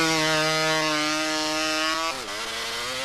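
A hot saw, a competition chainsaw for North American logging contests powered by a two-stroke motorcycle engine with an expansion chamber, screams at a high, steady pitch close by, then its tone dips and wavers near the end.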